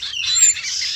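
A female kelecekan gunung songbird calling, a loud, close, high-pitched chirping call held almost continuously for about a second with slight warbling breaks, heard alone.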